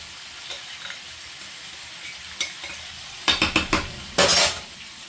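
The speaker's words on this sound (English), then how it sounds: "Now we're going to give this a nice mix." Rice is stirred into a pot of boiling water, with faint bubbling, then a burst of quick metallic scrapes and clanks of a spoon against the pot, followed by a louder swishing stir.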